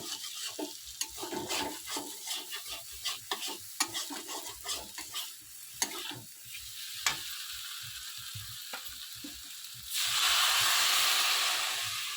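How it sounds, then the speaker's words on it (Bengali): Potatoes frying in spices sizzle and scrape under steady stirring, then water poured into the hot pan bursts into a loud, sustained hiss of steam near the end. "মশলার সাথে আলুটা ভালো করে কষিয়ে নিয়েছি এবার দিয়ে দেব জল"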